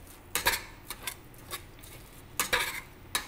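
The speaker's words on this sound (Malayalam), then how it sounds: "ഇനി ഞാനിതൊന്ന് ഇളക്കി യോജിപ്പിക്കട്ടെ" Rice powder, jaggery and coconut mixture for ari unda is stirred in a pan, irregular scraping and clinking strokes of a spoon against metal, a few clusters of close knocks over quiet background, no talk.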